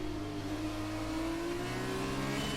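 An F1 car in the F1 2020 racing game accelerating out of a corner, a steady droning engine whine with rising pitch, continuous and moderately faint, no talk.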